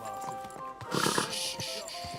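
A horse in the video game Kingdom Come Deliverance 2 gives a short whinny and snort over steady game ambience and a low music bed, close and brief.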